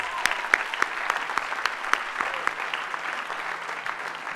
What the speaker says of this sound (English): So another round of applause real quick.